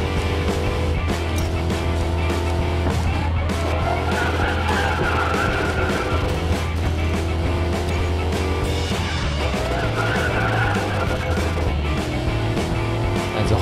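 A Dodge Challenger SRT Hellcat in a racing video game skids under the handbrake, its tires squealing in rising and falling sweeps over a steady, loud engine roar that runs without a break.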